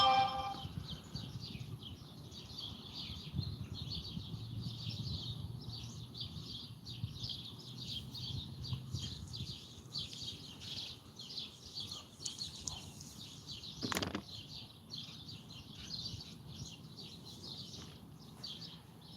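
Birds chirp in a historic railroad park in Willcox, with steady, fairly faint calls repeating throughout and a low hum of outdoor background noise underneath.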